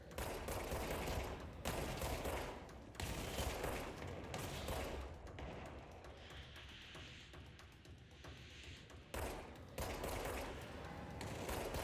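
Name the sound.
gunfire in the video game Control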